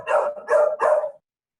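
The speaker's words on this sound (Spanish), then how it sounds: "Tenemos un perro ahí ladrando." A dog barks three times in quick succession, close and loud, each bark short and sharp, then silence.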